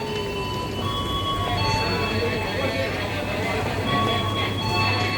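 Busy railway station platform at track 5 in Indonesia, with a train idling and passengers milling about: a steady low rumble and hum, bright tonal whines and faint clinks throughout, crowd murmur underneath.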